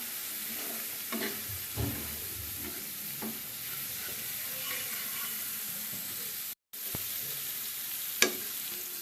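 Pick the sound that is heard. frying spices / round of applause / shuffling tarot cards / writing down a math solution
frying spices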